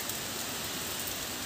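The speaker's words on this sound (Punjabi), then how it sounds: "ਬਹੁਤ ਹੀ ਜ਼ਿਆਦਾ ਪੈਂਦਾ ਪਿਆ ਮੀਂਹ" Heavy rain pours down at an outdoor grain market in Punjab, a dense, steady hiss with no breaks and no voices.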